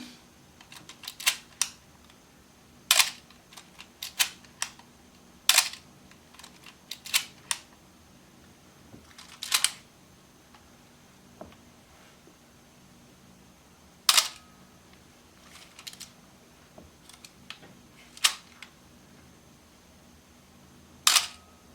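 A Canon A-1 SLR camera under repair for an electromagnetic shutter fault is cocked and fired over and over, giving sharp mechanical clicks and snaps in irregular clusters, close and clear against near silence.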